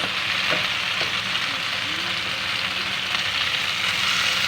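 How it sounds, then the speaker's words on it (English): Pineapple noodle stir fry sizzling and frying in a pan, a steady continuous hiss with occasional soft scrapes of stirring, close and fairly loud with no talking. "just stir and combine everything till it's nice"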